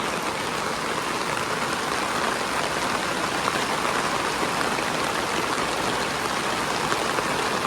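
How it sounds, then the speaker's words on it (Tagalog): Heavy rain pours down in the Bicol region of the Philippines, a loud, dense, unbroken hiss of water that holds steady throughout with no voices. "lakas na ng ulan dito"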